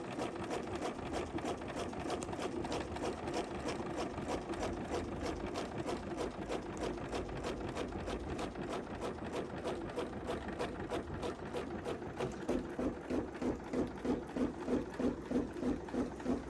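A BERNINA embroidery machine stitches with a magnetic hoop, its rapid needle rhythm running steady and close throughout, with a slightly louder, more pronounced pulsing near the end and no talk.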